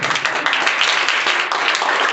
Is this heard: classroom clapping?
yes